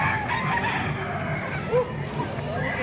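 A Boston Sweater gamefowl rooster crows nearby, a brief strained call rising over a busy yard background, with a voice murmuring faintly.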